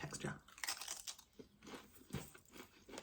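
Brazilian crisps with a Pringles-like texture being chewed close up, giving a run of crisp crunchy bites and rhythmic mastication over about three seconds, with no talk.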